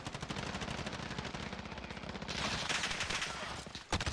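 Video game gunfire: rapid automatic bursts rattle continuously at close range, growing denser and harsher midway, then cutting off with a final loud shot, with no talking.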